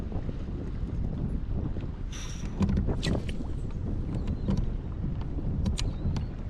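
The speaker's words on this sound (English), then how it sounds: "Oh, straight into that wind." Steady wind rushing and buffeting the microphone while kayaking on Lake Arcadia, constant low roar with light water splashes and paddle knocks, close and loud throughout.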